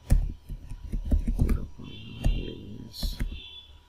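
A computer mouse clicks and keys tap quickly close by in a brisk irregular run of crisp clicks, with some background noise and a person talking faintly underneath.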